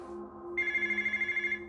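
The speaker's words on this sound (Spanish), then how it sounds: "Esa noche, yo solo oí dos timbrazos del teléfono." An old-style telephone rings once near the end of a steady hum, a rapid bright electric trill that warbles evenly for about a second, clear and fairly close with no voices.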